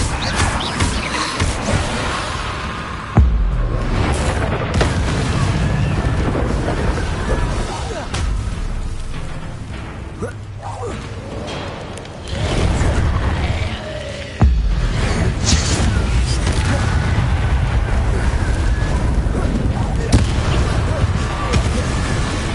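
An Incendio fire spell in Hogwarts Legacy erupts in heavy roaring blasts and booms with sudden loud onsets, layered over dense combat noise and a continuous rumble.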